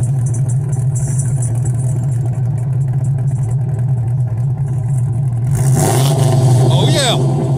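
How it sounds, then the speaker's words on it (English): A right-hand-drive TVR with a V6 and no catalytic converters holds a loud, steady rumble at a car show, then revs sharply near the end, with voices nearby. "could you give it a couple revs?"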